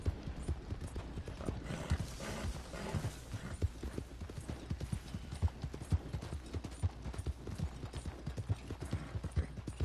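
A horse's hooves clip-clop steadily along in Red Dead Redemption 2, a brisk even trot heard up close with faint mechanical clicks underneath and no talk.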